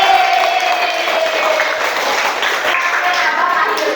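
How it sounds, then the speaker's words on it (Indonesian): Classroom audience of students applauding a student group, a steady dense wash of clapping held for the full length with a crowd-like texture and no pause. "Tepuk tangan lagi."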